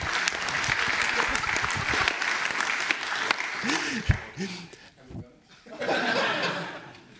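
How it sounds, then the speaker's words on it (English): Audience applause after a tech conference day summary, a steady wash of clapping for several seconds that dips briefly, with chuckles and a few voices talking through it near the end. "also another last applause for Anita"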